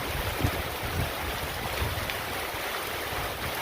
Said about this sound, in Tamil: எவ்வளோ தண்ணி ஊற்றுது பாருங்கள் சூப்பராக ஒர்க் ஆகுது